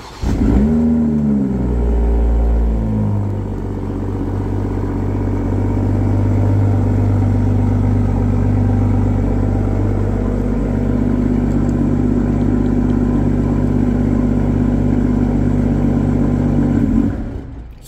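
A 2023 BMW M440i Cabriolet's B58 engine starts remotely via the key fob, a brief rev flare settling into a steady, loud, close idle rumble that holds until cut off.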